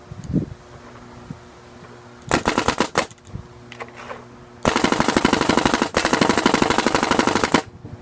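Tuned Planet Eclipse GSL paintball marker firing rapid bursts, a short volley and then a longer sustained string of sharp, loud pops, with a few single shots between.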